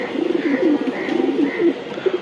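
A racing pigeon coos close by in repeated soft, throaty rolling phrases, several in quick succession, with no talking.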